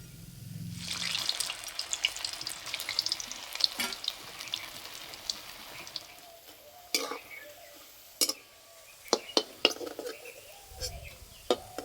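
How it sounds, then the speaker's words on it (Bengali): Onion fritters (peyaji) frying in hot oil, a steady crackling sizzle broken by occasional sharp clinks and scrapes of a utensil against the pan. "ভাজতে বেশি সময় লাগে না, যেহেতু সিদ্ধ হয়েই আছে।"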